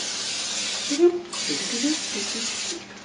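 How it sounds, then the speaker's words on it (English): A steady hiss of aerosol cooking spray onto a waffle iron runs through most of the clip, briefly pausing, with a voice speaking faintly underneath. "A little bit of cooking spray to keep everything from sticking to"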